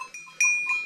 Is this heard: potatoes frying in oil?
no